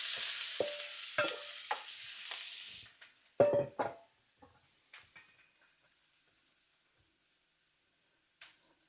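Onion for chicken chop suey goes into a hot pan and sautés, with a bright hiss and a few utensil taps and clanks, then the sizzle quickly fades to near quiet with one last faint clink.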